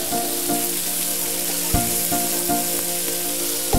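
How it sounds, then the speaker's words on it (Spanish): Garlic sizzles loudly in a pan alongside browned squid and pepper for a seafood paella, a dense crackling fry with a few knocks of stirring utensils against the pan. "Tenemos ya el calamar y el pimiento doraditos, echamos el ajo"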